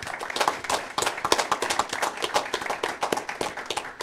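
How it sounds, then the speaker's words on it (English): A smaller audience at a school board meeting claps for a retiring board member, with individual hand claps clearly distinct in a quick, uneven rhythm that is close and lively throughout. "Lankin one more round of applause."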